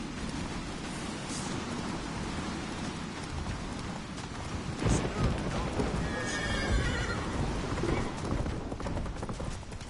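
Roach, the horse in The Witcher 3, whinnies and gallops with steady clip-clopping hooves beneath a continuous rain-like wash of ambient noise, loud and close throughout.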